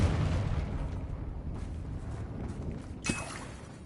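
A fiery spell blast in a Hogwarts Legacy battle lands as a short, sharp burst near the end, over a low rumbling wash of combat ambience.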